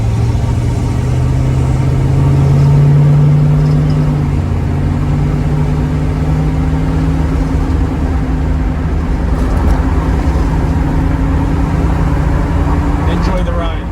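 A 1967 Pontiac Firebird engine drones steadily on a test drive along a main road, a low and fairly loud hum from inside the car with a brief swell early on.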